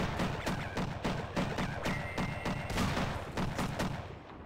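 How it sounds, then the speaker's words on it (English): Rapid machine-gun bursts in the co-op shooter game Sven Co-op, a dense run of sharp, loud shots repeating steadily for several seconds without a pause. "Oh yeah, the machine gun!"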